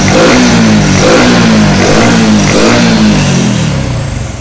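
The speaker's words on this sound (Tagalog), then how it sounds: "Ang paghagok ng motor, marami dahilan." Honda RS125 fuel-injected motorcycle with a damaged injector, its engine revving loudly and unevenly up close with a rough, hesitant tone that dips and rises over several seconds before easing off.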